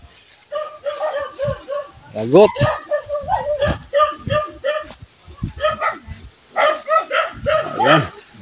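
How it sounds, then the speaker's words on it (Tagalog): A dog at a house barks repeatedly in quick bursts of sharp, yappy woofs, some rising into yips, loud and close with brief pauses, while a person speaks briefly over it. "Aso."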